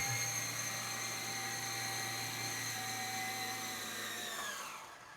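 A 20-year-old RC helicopter hovers with a thin, steady, whining motor and rotor tone that holds evenly, then winds down and fades near the end as it lands, fairly quiet and with no voices.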